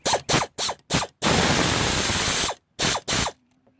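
Ratchet loosening an intake spark plug on a 2009 Lincoln MKX / Ford Edge: several quick clicking bursts, then a longer steady run of rapid ratcheting, then two more short bursts, close and clear with no talking.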